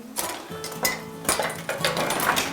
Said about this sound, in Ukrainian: Тепер ми беремо деко, в якому будемо готувати.